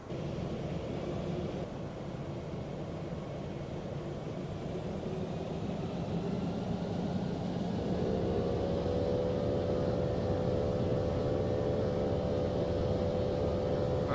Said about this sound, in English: Since the engines spool up.